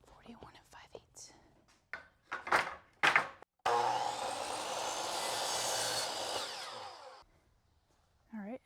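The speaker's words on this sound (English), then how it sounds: "I need to cut out more of these trim pieces that go along here." Power tool cutting wood trim pieces, a loud continuous cutting burst of several seconds following some soft speech, then quiet.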